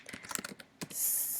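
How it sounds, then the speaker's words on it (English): A short burst of fast typing on a computer keyboard, close and clear, a rapid run of key clicks ending in a brief hiss. "And then I'm just going to type in"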